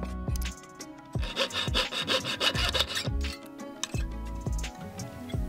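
Metal coin being cut with a slot so another coin slides in snugly, making repeated rasping, scraping strokes in a steady rhythm, close up and fairly loud with no voices.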